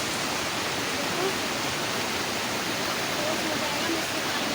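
A rushing river, its water high and strong, gives off a dense, even roar close by that continues without a break.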